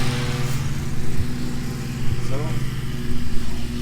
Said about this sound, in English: excuse the guy for cutting the grass